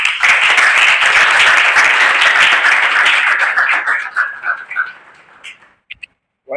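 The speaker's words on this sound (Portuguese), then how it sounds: "salva de palmas" Sustained applause from a crowd, loud and dense, gradually thinning out and fading to a few scattered claps near the end.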